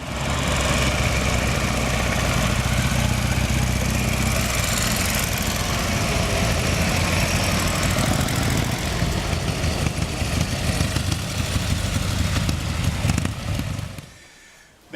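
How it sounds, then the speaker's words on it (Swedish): A Russian-style sidecar motorcycle engine idles close by, a steady loud rumbling chug that holds for most of the time and then cuts off abruptly near the end. "en riktig hoj"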